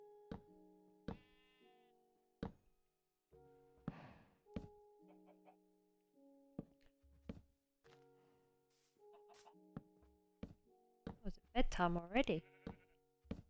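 Sheep bleat repeatedly on a small Minecraft farm, short wavering calls over a steady run of block knocks and thunks, while a person talks at intervals.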